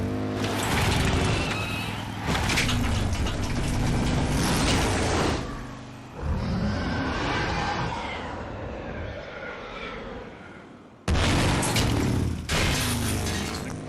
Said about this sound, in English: An explosion as she lands on the other side of the house.